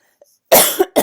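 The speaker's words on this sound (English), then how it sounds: "This one now makes me cough" A single sharp close cough from a person, loud and abrupt, followed by a short second burst after near silence.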